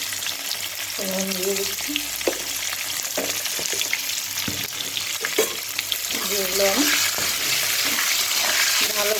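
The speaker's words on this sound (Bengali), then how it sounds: "সবগুলো পটল আমার এভাবে লাল করে ভাজা হয়ে গেছে।" Pointed gourd (potol) fries with salt and turmeric in a pan of oil, a steady close sizzle broken by stirring scrapes, while someone talks over it in short phrases.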